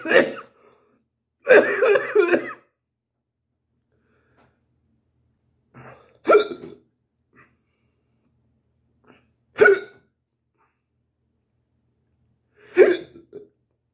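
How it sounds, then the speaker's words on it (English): A person gives a series of five sharp hiccups spaced a few seconds apart, the second one longer with a laughing, coughing quality, close to the microphone with silence between. "Hiccup."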